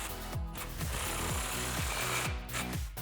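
Power tool tightening an exhaust clamp on a Mustang GT during a cat-back exhaust install, a loud, steady whirring drive with repeated pulsing impacts throughout, close up and alone.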